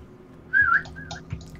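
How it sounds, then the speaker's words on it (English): A game character in the survival title Miscreated whistles a short, clear two-part tune, a bright rising note followed by a softer trailing one, over quiet ambient background. "F11 is whistle"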